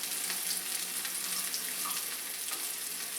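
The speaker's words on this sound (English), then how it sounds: "I'm just going to sizzle it up here in a little canola oil till it starts to separate." Egg foo yung sizzles in a little canola oil in a pan over moderate heat, a steady close crackling hiss with scattered pops throughout, heard alone.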